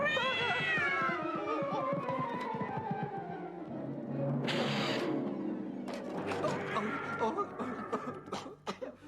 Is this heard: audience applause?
no